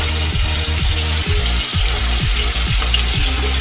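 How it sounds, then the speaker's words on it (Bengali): Paneer pieces with turmeric powder fry in a pan, giving a steady hiss of sizzling oil over a run of rhythmic low clicks and scrapes. "দু থেকে তিন মিনিট আমি ভাজা করে নিই"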